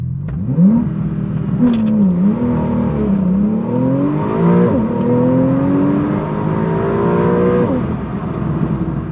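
A 2017 Porsche 911 Carrera S launches hard on an empty road, its engine note rising steeply through the gears in a loud, close roar with brief dips at each shift.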